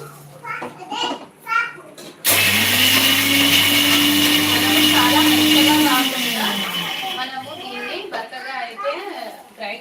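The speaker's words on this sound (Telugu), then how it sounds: "దీన్ని మనం ఏమాత్రం వాటర్ యాడ్ చేసుకోకుండా మిక్సీ అయితే గ్రై మిక్సీలో గ్రైండ్ చేసుకోవాలి" A kitchen mixer grinder whirs loudly and steadily for a few seconds as it dry-grinds spice paste ingredients for a street-style sweet corn dish, starting abruptly and winding down, with someone talking before, over and after it.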